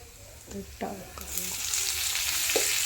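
Fenugreek leaves (methi bhaji) going into a hot pan and frying, a soft sizzle that swells into a steady hiss, with a few light stirring scrapes early on.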